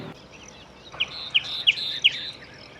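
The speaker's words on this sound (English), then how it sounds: "This is a nightingale" A nightingale sings from a bush on Lesvos, sending four bright, separate piping notes at an even pace over a soft, steady outdoor hiss. The calls are clear and fairly close.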